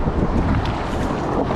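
Steady, loud wind buffets the microphone with a constant low roar while paddling against the wind on the Brazos River near a low water dam, with no voices.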